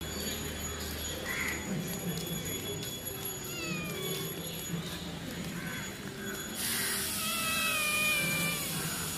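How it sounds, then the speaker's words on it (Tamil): A cat meows a few times indoors, thin drawn-out cries at moderate distance over a quiet background, with a brief hiss-like burst near the end. "பூனை எங்கம்மா?"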